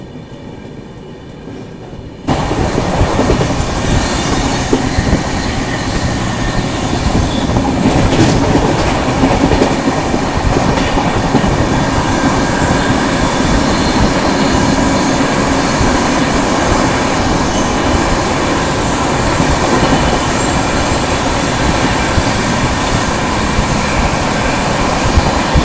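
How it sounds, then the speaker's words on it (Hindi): Steady, loud rumble of the Ahmedabad Pune Duranto Express running at night, heard from inside the moving train, with continuous wheel and carriage noise after a quieter opening couple of seconds; no voices. "तो चलिए किसी भी समय हम क्रॉस करने वाले हैं अवंतिका एक्सप्रेस को"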